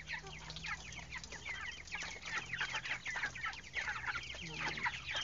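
Broiler chickens about three weeks old, crowded in a coop and sprayed with water on a hot day, cluck and squawk in a continuous agitated commotion, many birds at once and close by.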